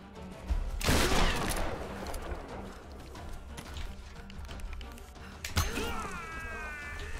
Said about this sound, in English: Good shooting with the shotgun